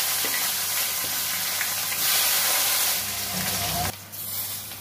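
Bay leaf, cardamom, cinnamon, cloves and small tomatoes frying in hot oil give a steady, loud sizzle and hiss, close up, that drops off sharply near the end.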